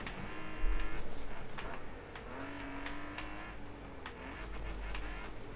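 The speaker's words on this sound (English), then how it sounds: "I do like how the engine of this car sounds" Car engine in Wreckfest 2 racing, a steady mid-pitched hum that rises briefly early on and then holds, with a faint whine sliding up and down over a low rumble.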